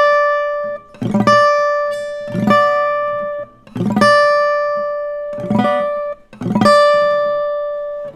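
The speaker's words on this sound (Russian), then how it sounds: "Рейк – это звук извлечения одной ноты, но при этом, когда мы дергаем все струны." Fingerstyle guitar rakes: five times a percussive scrape across muted strings leads into a single ringing note, played close and loud with short gaps between.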